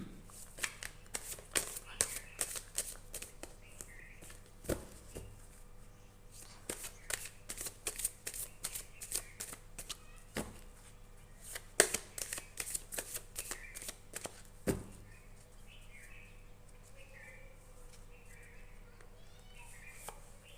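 Tarot cards are shuffled in repeated quick riffling bursts, close and fairly quiet, with short pauses between rounds and faint background sounds.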